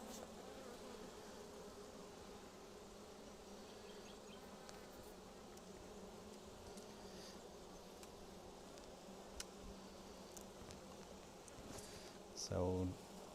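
Honey bees humming steadily around an opened hive during a brood inspection, a faint continuous buzz of many insects with occasional closer fly-bys and a brief knock near the end.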